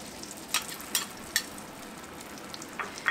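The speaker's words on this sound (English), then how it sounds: "Just going to add my egg in" Egg dropped into melted butter in a skillet over medium heat, sizzling faintly with a few sharp crackling pops spaced through the moment.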